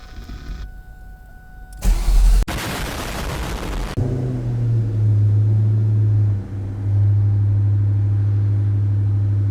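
A Cobra car engine cranks and fires up after an alternator replacement, a short burst of starter whirring giving way to a loud, steady low idle rumble that dips briefly before settling.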